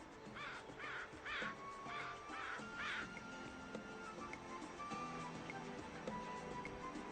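Crows give a run of about five harsh caws in steady rhythm, fairly close, followed by quieter scattered bird calls over a faint outdoor background.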